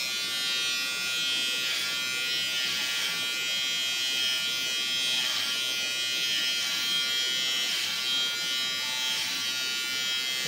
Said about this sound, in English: See, now shaving like this.